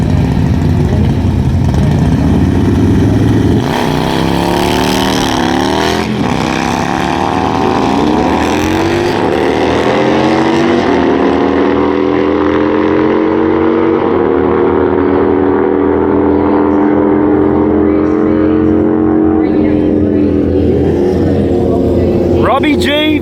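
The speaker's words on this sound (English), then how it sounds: "As we pick up a pair of very mean Harley Davidsons." Engines of a pair of very mean Harley-Davidson motorcycles roar loudly and steadily at a drag race bike night, with a track announcer talking over the noise throughout.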